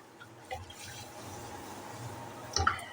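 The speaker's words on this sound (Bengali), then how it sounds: "এবার আমি মেপে জল দিয়ে দিচ্ছি" Water poured from a cup into a wok to boil sour green mangoes, a faint steady trickle with a couple of soft splashes near the start and end, heard close up in a quiet kitchen.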